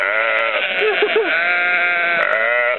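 A single sheep lets out a long, wavering bleat, loud and close, with a slightly thin, band-limited quality.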